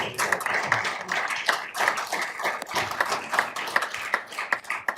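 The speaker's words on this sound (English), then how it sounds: "So let's give him a round of applause." An audience at a Tucson city council meeting applauds a police officer, a fairly faint round of scattered, overlapping handclaps with distinct individual claps standing out through the room.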